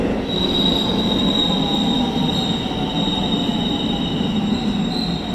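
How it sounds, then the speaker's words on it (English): A train passes through a big station in Hyogo, Japan, its wheels squealing loudly and steadily over a continuous close rumble, with no talking. "There's not my train."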